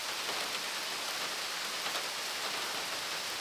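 Steady, faint rain falls continuously during a thunderstorm with hail in the Snežnik area, a dense even hiss of drops on surfaces with no distinct thunderclaps.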